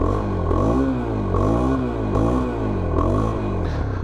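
Masai Furious 125 Racing motorcycle with its stock exhaust idling and blipping nearby, a steady low throbbing drone rising and falling in pitch through several revs, with no talk over it.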